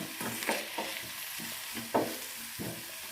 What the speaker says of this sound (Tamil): கொஞ்சம் கரம் மசாலா சேர்த்து லைட்டாக வதக்கிங்க எண்ணெயிலேயே